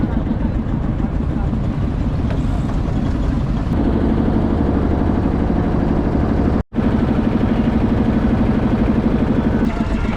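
A boat engine drones steadily on the Ganges river at Varanasi, a loud, continuous low rumble with a brief dropout midway, while people talk over it.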